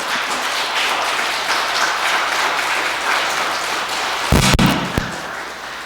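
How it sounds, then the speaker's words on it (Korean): A church congregation claps during an evening Advent lecture, a broad, even wash of applause from many hands. A few louder knocks and bumps come near the end. "네, 박수 보내주세요."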